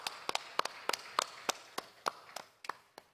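An audience at a live-streamed technology event applauds corporate sponsors with sparse, quiet claps, about a dozen distinct slaps spread unevenly over a few seconds, heard from a distance.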